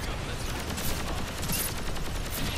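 Dense, continuous gunfire fills a Gundam Evolution match, a steady loud barrage of rapid shots with no pause and no voices.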